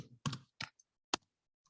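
A few separate clicks of keys being typed on a computer keyboard, quiet and sparse, with short gaps between the taps.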